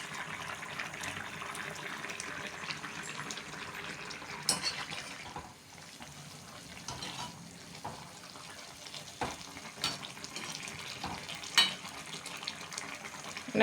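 Cauliflower and egg poriyal cooks in a pan as its water boils off, giving a steady low sizzle and bubbling hiss with occasional stirring scrapes, close and fairly quiet throughout.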